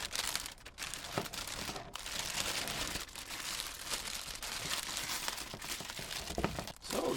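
Plastic bag crinkling and rustling as a Shark Matrix Plus 2-in-1 mop and vacuum is unboxed, a continuous close crackle with a few sharper tearing-like bursts and no speech.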